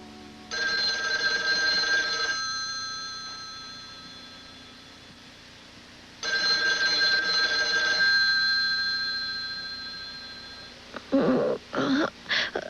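A telephone bell rings loudly in two long bursts separated by a pause, followed by brief voice-like sounds at the end in an indoor children's TV setting.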